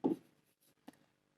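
A pen scratches briefly on paper as someone writes, with one soft stroke followed by a faint tap, quiet and close in an otherwise silent room.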